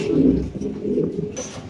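A pigeon in a farm cage gives a close, fairly loud coo that rolls along for under two seconds, with no voices over it.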